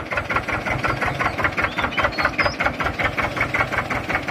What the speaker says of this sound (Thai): นี่คือดีโอทำงานแล้วนะครับ นี่ การทำงานดีโอ นะครับหมุนทำงานปกตินะครับ